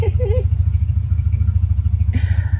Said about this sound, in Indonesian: Ada bunyi motor tuh.